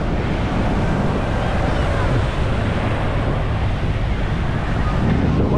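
Heavy ocean surf at a beach in Destin, Florida: a constant, loud wash of breaking waves blended with wind buffeting the microphone, with no pauses.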